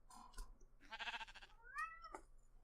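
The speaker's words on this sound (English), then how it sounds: "Ow, hi cat." A house cat meows several times in a quiet room, short nearby calls with rising and falling pitch, separated by brief pauses and a soft low hum beneath.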